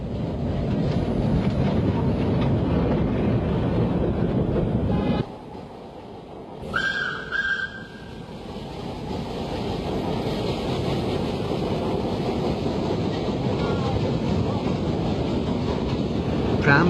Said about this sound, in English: it ruled the Surabaya marketplace, and the rickshaws or fat jacks kept well clear as the tram chuffed importantly by